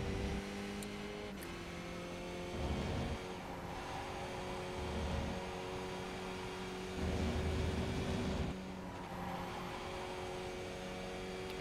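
Race car engine in the iRacing simulator held at a steady drone through a lap, with harmonic whine and periodic louder surges as revs climb and ease, continuous and close with no voices.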